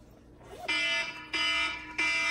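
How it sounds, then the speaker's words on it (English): A school alarm blares in three loud, harsh buzzing bursts, each lasting about half a second, heard nearby with no talking over it. "That's our alarm."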